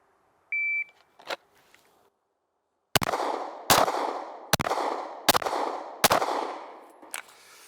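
A single electronic shot-timer beep starts a pistol string of fire on a 15-yard line, followed by six sharp, evenly spaced gunshots, loud and close, each with a short ringing decay.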